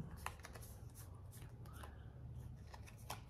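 Pokémon trading cards from a Celestial Evolution elite trainer box are flipped over one by one, giving soft, quiet card flicks and slides spread across the clip with no talk.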